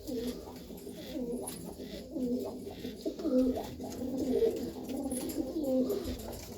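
Pigeons and their chicks coo in soft repeated low calls, close by but fairly quiet, with faint background noise and no clear talk.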